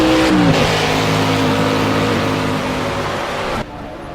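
A Ford Mustang GT4 race car roars past in the European GT4 Championship, its engine loud and close with a high revving note that sweeps down as it passes, sustained throughout before cutting off sharply near the end.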